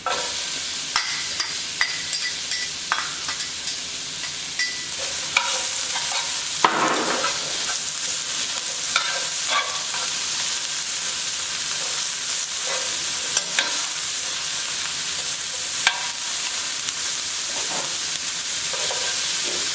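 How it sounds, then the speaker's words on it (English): Onions frying in a pan for Jamaican beef patties, a steady loud sizzle with intermittent scraping and stirring clicks and occasional bursts of spitting, no voices. "I'm going to then add my onions."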